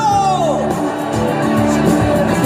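A large crowd at a candlelight protest rally in Korea roars and cheers with shouts and whoops, forming a loud, continuous swell of voices over music from the stage.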